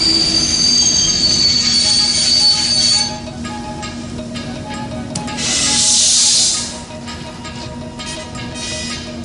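An express train rolls along the rails with a continuous high metallic wheel squeal and steady rumble, loud and close, swelling again midway before fading.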